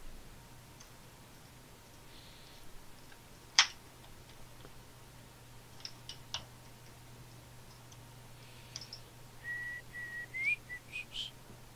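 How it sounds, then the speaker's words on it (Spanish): A person whistles briefly and faintly during a live Terraria game session, with short whistled notes and a rising tune near the end over quiet background hum and a few clicks. "Se me ha oído el silbidito ese que he pegado"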